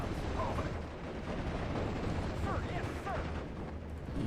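Continuous gunfire and artillery rumble from a Steel Division Normandy 44 battle in the hedgerows, dense and steady throughout with scattered crackling reports over a low roar.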